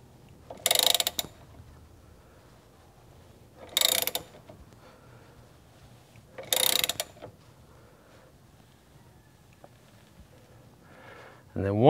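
Wheel stud being tightened on a Polaris RZR 170 side-by-side: three short, bright bursts of ratchet clicking spaced a few seconds apart, close and clear over a quiet room hum.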